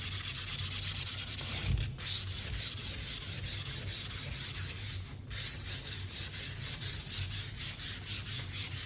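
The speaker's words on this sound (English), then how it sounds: "So grab the piece of sandpaper and just give it a quick sand." Sandpaper worked by hand over a painted wooden board, a close, steady rhythmic scratching of quick back-and-forth strokes with two brief pauses, no voices.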